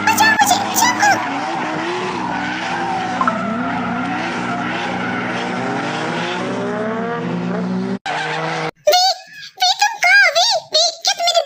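A car with failed brakes skids hard, tires squealing in a long, loud continuous screech under a voice, then cuts to brief silence before excited speech resumes.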